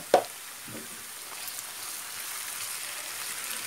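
Fried chicken and chopped tomatoes go into a hot karahi, with a sharp thud as they land and then a steady sizzle that hisses evenly throughout.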